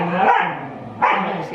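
Dogs bark while playing indoors, two loud, close bursts of barking and yips about a second apart, with some whimpering noises mixed in.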